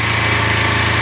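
A motorcycle engine idles close by while its fuel mixture is being tuned against a tachometer, giving a steady, continuous mechanical hum with an even pulsing rhythm and no clear change in pitch across the short stretch.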